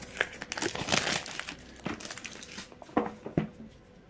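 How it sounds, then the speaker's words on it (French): Blister packaging on a board game is unwrapped, giving close, loud crinkling and crumpling plastic sounds in irregular bursts with a few sharper crackles toward the end. "Je vais déjà déblister, même si c'est pas ce que je vais ouvrir tout de suite."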